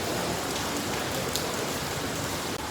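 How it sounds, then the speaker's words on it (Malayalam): Heavy rain pours down during a day out in Munich, a dense, loud, unbroken hiss of drops hitting surfaces close by, with no talking. "ഭയങ്കര മഴ."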